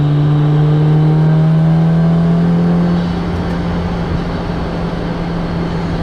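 A Honda S2000 CR revs hard on a remote road, its loud, close engine note climbing steadily before easing off into a lower, constant drone with no talking.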